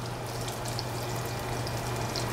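A steady, soft sizzle and crackle of onions sautéing in a pan, continuous and close, with no voices.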